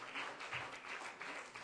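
A church congregation claps for the Lord during a Spanish-language sermon, a brief burst of quiet, steady applause in a reverberant hall.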